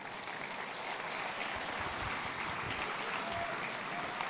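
Audience applause at an academic year-opening ceremony, a dense, even wash of many hands clapping together, sustained and fairly distant for the whole stretch.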